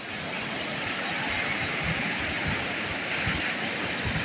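Rushing river water roars continuously at a confluence in Bahrain, Swat Valley, a broad steady flow heard close by with no voices.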